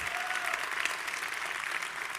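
A church congregation applauds during a sermon, dense continuous clapping that stays loud and steady throughout, with no voice standing out.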